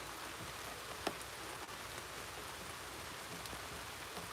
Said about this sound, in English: Whenever the rain is falling, it's always a blessing, you know?